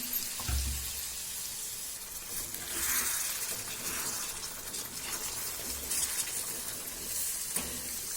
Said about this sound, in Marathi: आता त्यामध्ये ना पाणी टाकायचं थोडं थोडं थोडं घालत जायचं पाणी